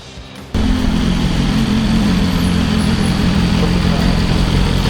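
A BMW motorcycle engine, from a bike that has just had its first service, runs at a steady idle after a brief quieter start, with a close, constant low mechanical rumble and no one talking.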